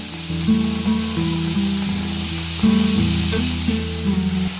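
Semolina snacks fry in hot oil in a wok, a continuous bright sizzle and hiss with rhythmic tonal bubbling, loud and close, no talking.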